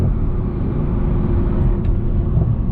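A tuned BMW 335xi with a 17T turbo upgrade and six-speed manual drones loudly from inside the cabin, a steady heavy rumble of engine and road noise with little variation.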